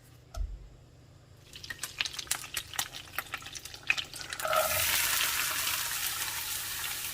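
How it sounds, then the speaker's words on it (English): Butter and chopped vegetables drop into a preheated pan over medium heat, with scattered clicks and stirring at first, then a steady loud sizzle of sautéing that carries on to the end. "In a preheated pan over medium heat, I'm adding 4 tablespoons of butter. I'm going to melt that down and add all of my chopped veggies."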